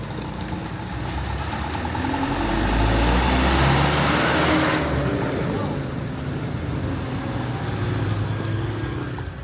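Car engines rumble steadily along a narrow street in Uluwatu, Bali, a continuous close low drone that swells slightly as vehicles squeeze past, with no voices over it.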